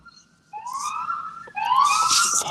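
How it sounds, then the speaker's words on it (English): Police car siren wailing through traffic at a red light, rising in two sweeping upward glides that grow louder and nearer, with no voices over it. "I hear police sirens."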